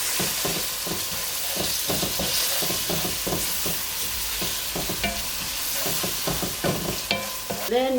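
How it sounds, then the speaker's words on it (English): Ginger and tomato paste sizzle loudly in a hot pan while being stirred, giving a continuous frying hiss with repeated scraping strokes close by. "We also add our ginger and our tomato paste. Then we mix."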